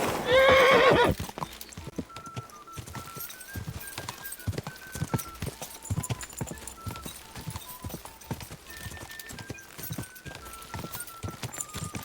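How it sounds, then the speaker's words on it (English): A horse in Kingdom Come Deliverance 2 gives a loud whinny, then gallops on with steady rhythmic hoofbeats close by over a quiet ambient backdrop. "Oh man, his horse is fast."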